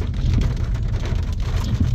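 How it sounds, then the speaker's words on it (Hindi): Rain drums steadily around a New Brezza on a night road trip through a valley in Bihar, a dense, loud and continuous patter on the car with a low rumble beneath and no talk. "लगता है आज रात भर बारिश होगी क्या।"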